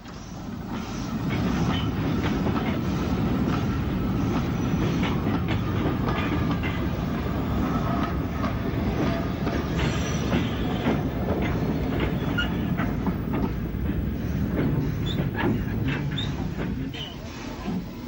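An old train of wooden-bodied wagons runs on the Isle of Wight railway, rolling steadily nearby with a rumbling, rattling clatter of wheels for the whole stretch.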